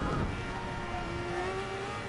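A loud race car engine drones close by in a racing video game, its pitch climbing steadily as it accelerates over a constant rush of road noise.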